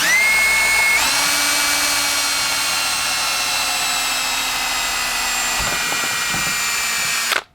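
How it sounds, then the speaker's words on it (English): A cordless drill bores straight down into wood while a deer skull mount is being prepared, giving a loud, steady motor whine for about seven seconds that steps up in pitch near the start and ends with a few knocks before stopping. "I'm just going to drill straight"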